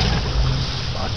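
An old Kiekhaefer Mercury outboard motor running on old gas, a steady close low rumble with broadband noise throughout the short stretch.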